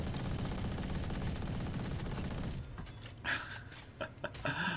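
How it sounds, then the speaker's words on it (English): Dense, continuous bursts of automatic gunfire in a Valorant esports match fill the first half, then thin into scattered sharper shots and impacts with brief gaps. "Oh, I love the sound of that gunfire."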